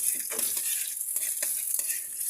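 Garlic frying in hot oil, a steady bright sizzle with a few scraping stirs of a utensil, close up and without talk.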